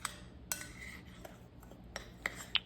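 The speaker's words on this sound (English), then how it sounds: "now you're just going to stir it all together" Homemade bath bomb mixture stirred in a bowl, giving sparse, quiet scrapes and light clinks of a utensil against the container at irregular intervals.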